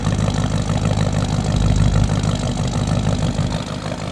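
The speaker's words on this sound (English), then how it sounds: "The idle's really good in my opinion." A 1974 Dodge Dart Swinger with a 318 V8 and glasspack exhaust idles nearby, a loud, deep, lumpy burble that swells slightly midway and then settles.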